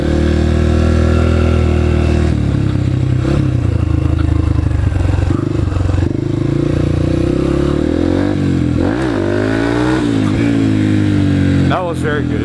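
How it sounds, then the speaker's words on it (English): A dirt bike engine revs hard and unevenly during a wheelie, rising and falling loudly close by, with a voice talking over it in places. "I'll do one more wheelie to see how good I can get."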